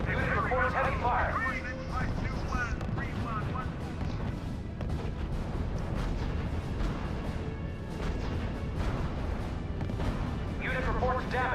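Heavy artillery fire in the World War II strategy game RUSE, a dense continuous barrage of booms and blasts with radio-style unit chatter and voices over it throughout.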